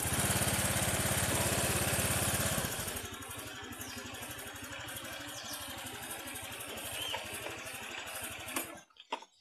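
A Honda Vario 125 scooter engine runs close by with a rapid, buzzing idle; it starts loud and rough, settles into a steadier lower chug, then cuts off at the end. The scooter hesitates on low-RPM acceleration.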